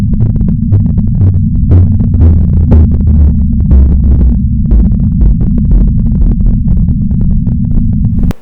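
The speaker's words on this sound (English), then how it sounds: "This burst here, this little line and this little chirp, you slow it down and it sounds like this." A radio burst chirp, slowed down, becomes a loud, steady low rumble peppered with scattered crackling pops and ticks, lasting about eight seconds with no voices.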